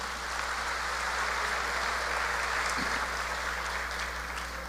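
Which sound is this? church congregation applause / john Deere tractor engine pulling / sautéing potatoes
church congregation applause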